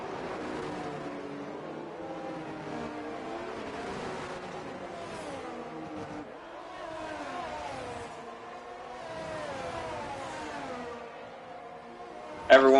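Race cars in a racing video game circle the French Grand Prix track, engines droning and shifting pitch steadily over several seconds, with a brief louder burst at the very end.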